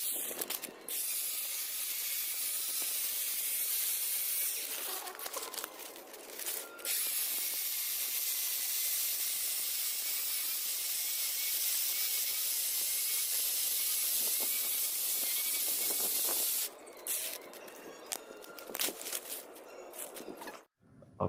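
A cheap chainsaw adaptor attachment saws through tree wood, played back sped up: a steady, loud, hissing buzz runs almost the whole time, with short dropouts near the start and again toward the end. Nobody speaks.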